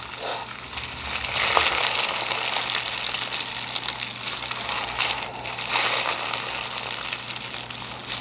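Slime mixed with pokey lava rock pieces squished and worked by hand up close, making continuous crunchy, crackling squelches with brief louder swells and no talking.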